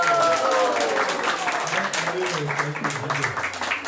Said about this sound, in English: Roy Prabhu, there you go, that's right, round of applause